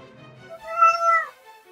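A pet cat gives one clear, drawn-out meow that rises and falls over about a second, close and alone in a quiet room.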